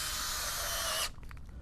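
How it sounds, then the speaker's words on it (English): Regular soil auger boring holes in extremely moist, sandy soil: a steady, close, gritty scraping grind that stops abruptly, followed by a few faint handling knocks. "I'm just going to drill some holes."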